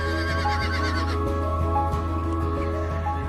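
A Przewalski's horse, the last surviving wild horse species, neighs amid a steady low hum and other animal calls, its whinny sitting among layered sustained tones.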